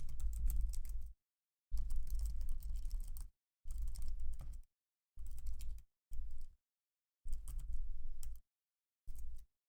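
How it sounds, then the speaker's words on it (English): Bursts of typing on a computer keyboard, rapid clicking keystrokes in several runs of one to two seconds separated by short pauses, close and steady with no talking. "you are, of course, invited to come down and type an answer here"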